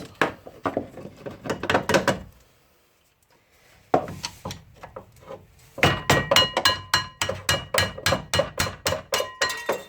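A hammer taps a small screwdriver to push out a brake pad on a Citroën Saxo 1.5 diesel, giving close, sharp metallic blows in rapid bursts with a brief pause, growing louder and more regular toward the end.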